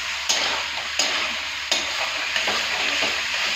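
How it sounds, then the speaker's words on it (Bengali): Ginger, onion and green chilli paste with cumin and chilli powder frying in oil in a wok, a loud steady sizzle broken by a few sharp scraping stirs. "এবার কিন্তু এটাকে ভালো করে কষাতে হবে।"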